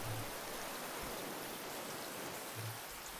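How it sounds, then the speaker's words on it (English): Steady rain falling in the game Raft, a soft, even hiss of drops spread across the scene with a faint low thump or two underneath and no talk. "It's still raining."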